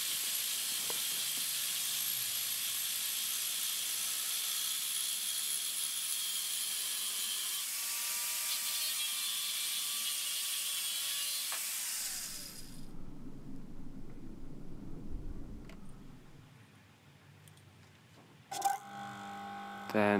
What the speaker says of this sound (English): use the old angle grinder to make the first main cuts